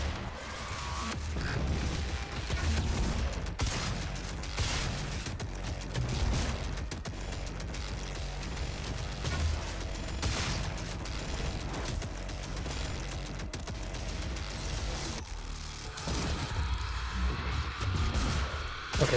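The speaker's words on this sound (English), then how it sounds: "Let's try this vortex grenade out." Doom combat with a vortex grenade and gunfire: nearly twenty seconds of dense, continuous shooting, booms and mechanical clatter, loud and busy throughout, with a brief dip and a rising whine toward the end.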